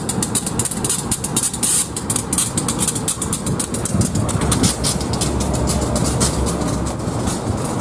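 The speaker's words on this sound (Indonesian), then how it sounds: "kereta api Sri Tanjung akan melintas di sini" An Indonesian passenger train rumbles steadily past a small station with high platforms, with continuous rhythmic clickety-clack of wheels over rail joints, loud and close throughout.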